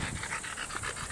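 A dog, apparently a working or guard dog, pants in rapid rhythmic breaths close by, with no voices over the steady huffing.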